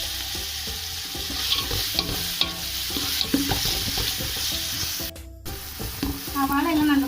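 Onions fry in hot oil with pepper and cloves for chicken kabsa, giving a continuous crackling sizzle broken by repeated scraping and clinking of a spoon stirring the pan.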